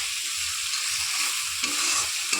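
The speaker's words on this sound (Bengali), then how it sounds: "কাশ্মীরি মিষ্টি সেভাবে একটু নুন দিয়ে মশলাটা ভালো করে কষাবো।" Spices with red chilli powder and salt frying in oil for egg curry, a steady close hiss and sizzle with a few stirring scrapes.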